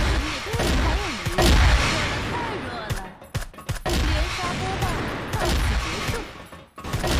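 Gunfire from the Scar Light-S BaiHu rifle in the game CrossFire, a few loud close shots among game noise and impacts, with a voice talking over much of it.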